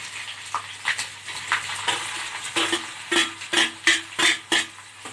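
Ginger, garlic and green chilies fry in a pan with a soft sizzle as a spoon scrapes and knocks against the metal in a quickening series of close, rhythmic strokes, with no talking.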